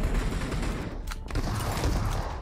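Shotgun fire in PUBG Mobile rumbles as a dense, continuous barrage of muffled blasts, fairly distant and steady with a brief lull midway, with no talking over it.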